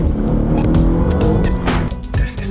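Mercedes-Benz E63 AMG with its turbo engine spinning its wheels on a wet road: a loud, continuous roar of engine and tire noise with surging throb, close and steady throughout.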